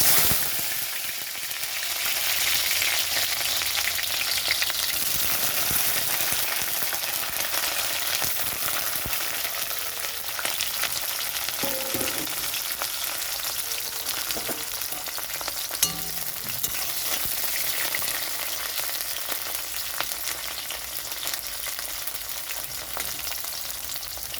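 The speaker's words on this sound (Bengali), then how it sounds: "কড়াইতে সর্ষের তেলটা গরম হয়ে গেছে, তো এখন আমি উচ্ছেগুলো ভাজতে দিচ্ছি।" Round bitter gourd slices fry in hot mustard oil in a wok, giving a steady, close crackling sizzle that runs without pause, with occasional small pops and stirring touches and no voices.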